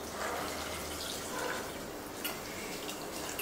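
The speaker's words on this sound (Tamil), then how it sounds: "தண்ணி ஊற்றிடலாம்." Steady pouring water, a continuous splashing hiss as water fills a pot of lentil sambar, close and moderately loud with no voices.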